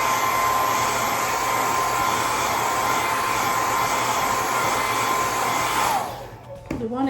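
Hair dryer blowing on hair, a loud steady close whoosh with a constant motor whine that runs unbroken for about six seconds, then switches off and winds down with a brief falling tone.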